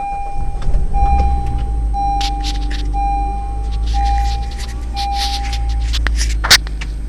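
A 2014 Honda Civic with a newly replaced CVT transmission idles steadily at close range, a constant low engine hum holding throughout with a faint tonal whine, light clicks and a brief knock near the end.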